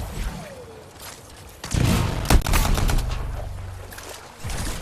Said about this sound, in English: Sounds like a giant firefight on its way.